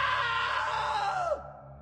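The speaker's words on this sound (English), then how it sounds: "Now that was a great scream." In the video game What Remains of Edith Finch, a woman screams loudly and at length, then the scream drops off abruptly and quiet follows.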